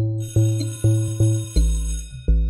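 A bell strikes about six times in an irregular rhythm, each tone bright and ringing, then decaying until the next strike. It sounds close and fairly loud, with no talk.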